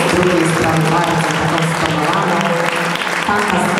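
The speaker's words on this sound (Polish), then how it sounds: "ogromne brawa dla wszystkich, dla wszystkich uczestniczek i wszystkich modelek" An audience at a disco-queen-themed make-up championship in Olsztyn applauds the contestants and models. Dense, steady clapping runs for the whole stretch at a strong level, with faint music and a voice underneath.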